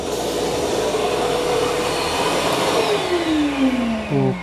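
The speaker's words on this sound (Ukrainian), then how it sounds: "І тепер пилосос. Ну, чути, увімкнувся." A Stark VC201 30 HEPA construction vacuum cleaner runs with a loud, steady whine whose pitch sweeps down as it changes speed, over a low mechanical hum.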